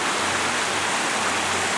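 Creek water flowing steadily right beside a track in a bush gully, a continuous close broadband rushing wash with no voices.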